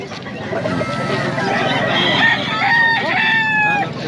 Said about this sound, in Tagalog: iba't ibang manok dito